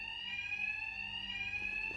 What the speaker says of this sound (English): Attacks will be covered by the noise of the alarm.